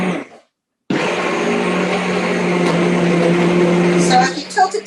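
A blender whirs continuously through hot green soup after a short pause, its loud steady motor hum running alone with a slight gurgling toward the end.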